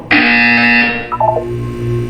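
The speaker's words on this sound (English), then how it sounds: "When you hear the buzzer, look down at the floor." A loud, harsh electronic buzzer in the video game Portal 2 blares for about a second, followed by a few short chiming tones and a lower hum.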